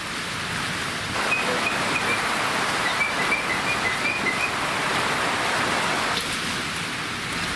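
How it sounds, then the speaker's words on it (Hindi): Heavy rain pours down during a storm with gusty winds and hail, a steady, dense hiss that stays loud and close throughout, with no voices. "तेज तूफान आया, बारिश के सिलसिले शुरू हो गए।"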